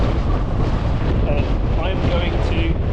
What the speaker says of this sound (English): Oh dear, it's so windy. It's so windy up here,